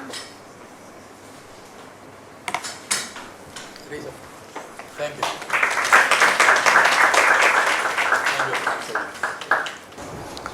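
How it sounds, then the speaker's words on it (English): Audience applause at a grassroots social-enterprise innovation talk, starting as scattered claps, swelling into a dense ovation through the middle, then thinning back to a few claps. "A huge round of applause again,"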